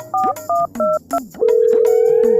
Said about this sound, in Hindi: उसको मैं फोन लगा के बुला लेता हूँ